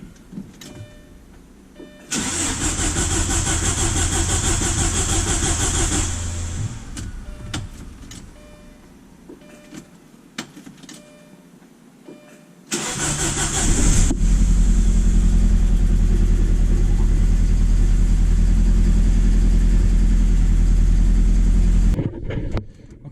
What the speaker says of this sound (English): Now let's try to start it.